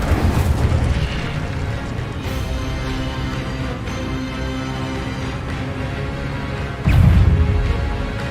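Incendio fire spell in the video game Hogwarts Legacy, a booming whoosh near the start and another burst near the end, both over a dense, continuous rumble of game sound.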